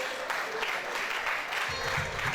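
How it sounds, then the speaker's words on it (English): Attendees at a Nigerian polytechnic staff association capacity-building workshop clap briefly, a steady scatter of hands for a couple of seconds with a low rumble near the end. "Please, a round of applause."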